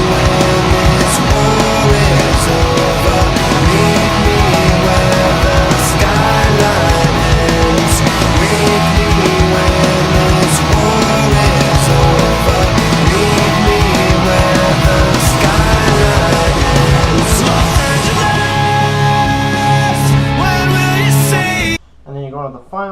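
Loud, dense guitar playing a song's final phrase and ringing chord, a full strummed sound throughout that cuts off abruptly near the end with a brief quieter tail.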